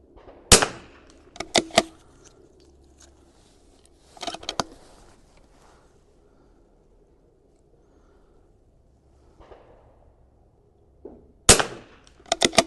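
A Vudoo V22S .22LR rifle firing at a 100-yard target on an outdoor range, sharp single cracks spaced seconds apart, a few close together, with quiet gaps between shots.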